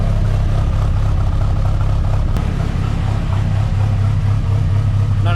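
A Rat10 car engine idles smoothly at 1,000 RPM on a rich mixture, giving a steady, close, low hum with no revving and no voices.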